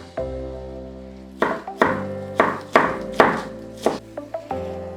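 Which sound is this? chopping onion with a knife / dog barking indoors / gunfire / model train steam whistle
chopping onion with a knife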